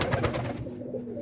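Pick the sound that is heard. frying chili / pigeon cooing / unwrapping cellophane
pigeon cooing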